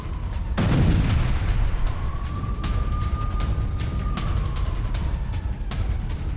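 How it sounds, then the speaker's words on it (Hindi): Artillery strike on a Pakistani army border post: a sustained roar of blast and rumble, loud and continuous, with a heavy low burst early on and a faint siren-like wail drifting through the middle. "पाकिस्तान की इस पोस्ट को ही उड़ा दिया गया है, धुआं धुआं कर दिया गया है"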